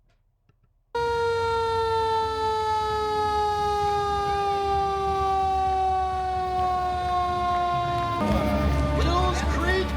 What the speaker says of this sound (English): Seymour's first fire truck, engine 10.